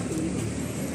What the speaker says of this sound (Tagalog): Ayan, daming kalapati.